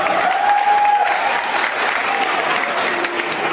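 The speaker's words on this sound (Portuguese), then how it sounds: "Uma salva de palmas, pessoal!" Steady, full applause from an audience at a dog demonstration event, loud and continuous with a brief whistle-like tone early on.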